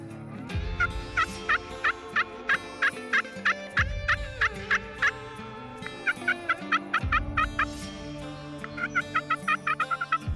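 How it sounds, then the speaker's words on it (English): Wild turkeys gobbling during a spring hunt, loud rapid rattling gobbles repeated in several bursts, with overlapping birds calling close by. "We could hear turkeys gobbling as we pulled up"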